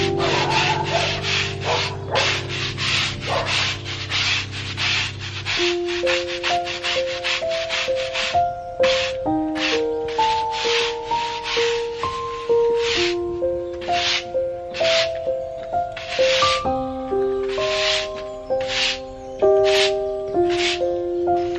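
A brush sweeps sand into the gaps between garden bricks, making a steady, close scratching and rubbing with rhythmic strokes. Soft music with clear notes plays underneath.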